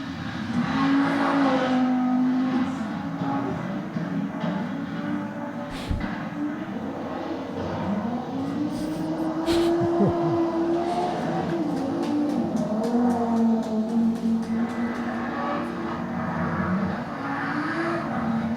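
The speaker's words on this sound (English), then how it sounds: "If I have some emotion, of course it's the noise of the quattro." An Audi quattro rally car with a turbocharged five-cylinder engine roars steadily, its pitch swelling and dipping as it revs hard through the gears over about eighteen seconds.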